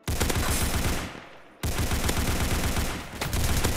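Sustained rapid gunfire in the video game Rush Point deathmatch, loud and dense, with a brief drop-off midway before the shooting resumes at full intensity.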